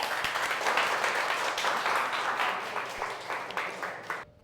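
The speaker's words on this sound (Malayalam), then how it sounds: "കൈയടിച്ചേ." Audience clapping at an Onam children's stage program, a thick continuous round of applause that gradually thins and stops abruptly near the end.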